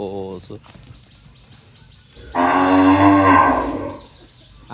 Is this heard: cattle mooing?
yes